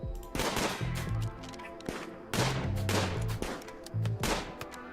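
Rimworld combat gunfire crackles in dense overlapping shots and short bursts, loud and nearly continuous over the game's background sounds.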